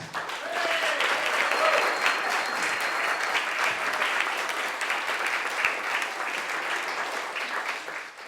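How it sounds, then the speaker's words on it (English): A pub room audience claps in sustained, even applause for a speaker, a continuous dense patter holding steady for several seconds before tapering slightly at the end. "massive round of applause for our speaker this evening"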